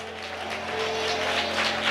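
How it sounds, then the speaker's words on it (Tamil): Worship congregation clapping loudly, a thick continuous wash of many hands that builds slightly in strength, with a faint tone sustained underneath. "சொல்லிட்டீங்கன்னா சத்தமா கைத்தட்டி இயேசுவே அப்படி சொல்லுங்க"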